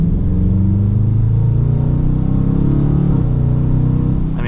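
A 2023 Dodge Challenger R/T Plus V8 accelerating on the road, its engine a loud, steady deep rumble that climbs gradually in pitch as speed builds, heard from inside the car with no talking.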